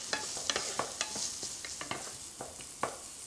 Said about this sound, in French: hop, petite spatule, et je remue régulièrement